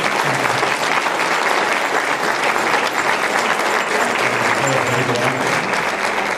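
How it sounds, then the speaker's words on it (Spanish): A conference audience claps loudly and densely, a sustained wall of applause that stays steady from start to finish. "Fuerte el aplauso."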